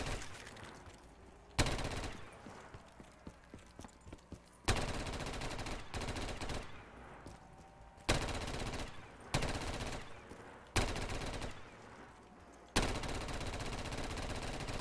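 Sustained automatic gunfire fills a Call of Duty custom zombies map, loud bursts of rapid shots alternating with quieter gaps holding scattered single shots and game effects.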